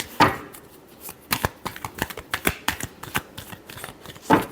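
Tarot cards being shuffled by hand, a string of crisp riffling bursts and sharp slaps in an uneven rhythm, close up and clear with no voice over them.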